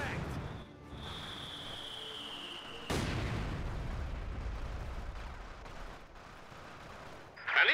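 Artillery fire and explosions during a Company of Heroes 2 battle on the La Gleize map, with a sharp loud blast near the three-second mark over a constant rumbling din, a tonal whine early on and another burst at the end.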